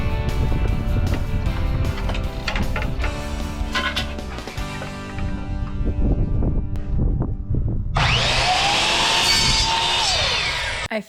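New wooden window trim pieces being cut with a power saw during a bathroom makeover, a bright high whine of the blade biting the wood near the end, after several seconds of knocking and handling.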